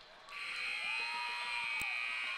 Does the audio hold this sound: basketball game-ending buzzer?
yes